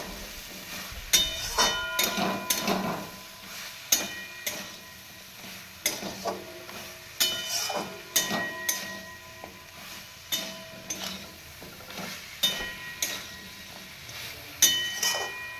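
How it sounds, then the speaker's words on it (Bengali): Okra stir-fried in a pan with a spatula, soft sizzling under repeated scraping and clinking strokes against the pan at an irregular rhythm, fairly quiet and close. "ঢেঁড়সগুলো দিয়ে দিচ্ছি। ঢেঁড়সগুলো দিয়ে একটু কষবো।"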